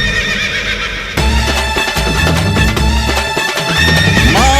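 A horse at a temple festival race during the Aadi festival in Rajapalayam, with loud whinnying and neighing over dense festival music and crowd noise throughout.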